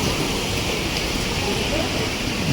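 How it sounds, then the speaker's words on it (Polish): A waterfall at a holiday spot in Egypt rushes with a steady, broad hiss of falling water, constant and fairly loud with no breaks. "Tutaj jest wodospad taki"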